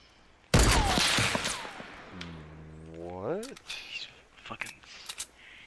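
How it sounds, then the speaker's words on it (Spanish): In the Fortnite battle royale game, a sniper shot cracks loudly, then the bullet ricochets off a pickaxe with a rising metallic whine before splashing into water, followed by scattered faint clicks. "tú puedes escuchar cómo la bala rebota y cae en el agua"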